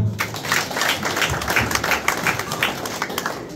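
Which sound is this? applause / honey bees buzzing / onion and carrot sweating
applause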